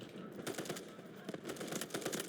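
Gunfire in the Delta Force shooter game: several sharp shots and short bursts crack in quick succession, sounding faint and somewhat distant.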